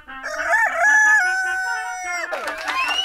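Rooster crowing loudly and close among chickens in a farmyard setting, one long drawn-out crow followed by clucking and squawks from the hens.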